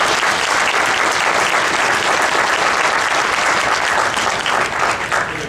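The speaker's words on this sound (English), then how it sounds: "Let's give them a round of applause." An audience gives a sustained, loud round of applause for a team, the dense clapping filling the hall evenly and only starting to thin near the end.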